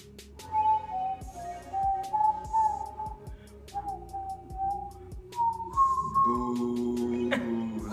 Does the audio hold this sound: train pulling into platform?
no